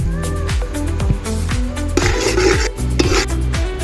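A spoon scrapes and rasps through poha in a metal pan as salt is stirred in, with loud, repeated rhythmic strokes throughout.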